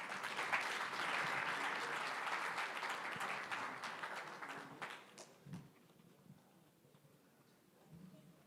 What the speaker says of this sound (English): A big round of applause to the Motaungs.